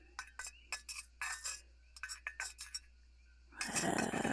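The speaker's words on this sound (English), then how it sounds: "And now we'll give that a little mix" Chaotic potion mixture being stirred in a bowl, with a run of quick, close clinks and scrapes of a spoon against the container, then a louder, denser swishing burst near the end.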